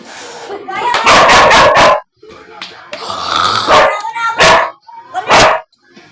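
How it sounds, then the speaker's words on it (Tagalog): Two dogs bark in loud, close bursts, with rapid yaps and whimpering yips mixed in and short pauses between volleys, while people talk over them. "yung dalawang aso"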